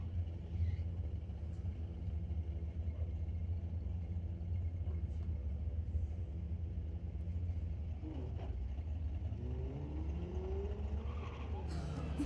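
Two Ford Mustangs run side by side in a drag race at a raceway, a deep rumbling engine roar that swells as the cars rise through the revs, with a faint tire screech near the end.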